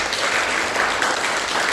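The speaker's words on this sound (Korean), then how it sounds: "잠시만 일어나 주시면 박수로 환영하겠습니다." Church congregation at a Sunday service applauds to welcome a guest, a continuous, even wash of clapping from many hands, moderately distant and filling the hall.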